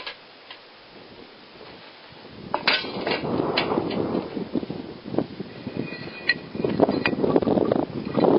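Rocks being stacked around a rocket stove chimney, with sharp clacks and knocks of stone on stone over gritty scraping and shifting, loud and close, building in activity with no talk.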